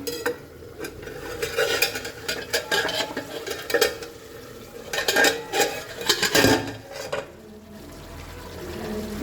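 A spoon stirs thick yogurt chicken in a pan, with repeated scraping and clinking against metal and wet, sticky squelches over a low simmering sizzle, close and fairly loud, no talking.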